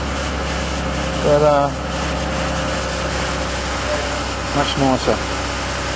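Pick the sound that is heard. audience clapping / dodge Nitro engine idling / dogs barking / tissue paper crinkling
dodge Nitro engine idling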